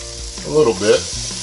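Peach halves sizzle on a NuWave Primo grill, a steady close frying hiss with a brief louder burst of crackle in the middle as the fruit is turned. No one speaks.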